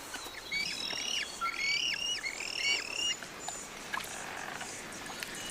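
Birds on a remote island where many species have lost the power of flight give a run of clear, whistled calls over a quiet outdoor background, then taper off into faint ambience.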